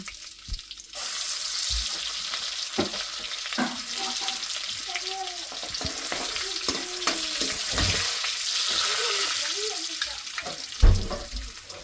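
Fenugreek and ginger hit hot oil and burst into a steady hiss that carries on throughout, while a voice talks intermittently over the frying.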